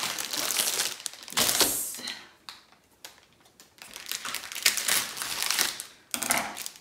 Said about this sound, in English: Lego is planning on going away from the plastic bags and going more towards paper bags. So that will be less noisy